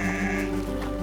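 A pregnant sheep on a Yorkshire farm gives one loud, close, sustained bleat lasting about a second, with no talking.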